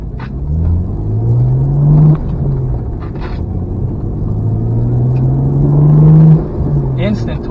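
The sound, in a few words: car engine accelerating on the road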